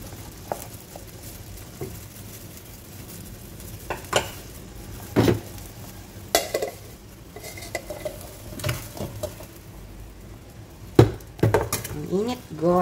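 Hot sinabawan soup with sweet radish being stirred in a pot, steady scraping and clinking of a spoon against metal over a sizzle, with a few louder knocks; a person talks intermittently.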